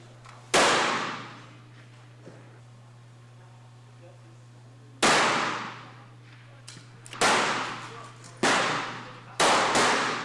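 Gunshots at a shooting competition ring out as loud, sharp reports with long echoing decays, one early, then a cluster of four in quick succession near the end, over a steady low hum.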